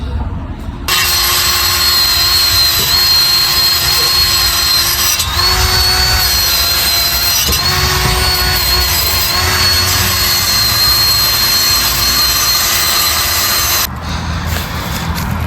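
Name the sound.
wire brushing an exhaust pipe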